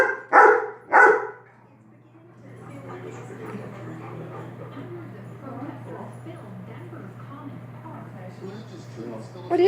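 Two sharp, loud barks from a dog playing with a small wiener dog come close together at the start, followed by quieter whimpers and yips as a person talks over a low steady hum; another bark begins at the end.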